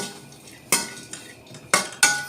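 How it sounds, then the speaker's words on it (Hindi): A spoon stirs dry fruits roasting in a pan: a few sharp metallic clinks and scrapes against the pan, spaced about a second apart over a faint background hiss. "और अब इसमें ये ड्राई फ्रूट डाल देती हूँ।"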